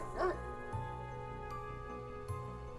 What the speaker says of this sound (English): But then the dog escalated to barking.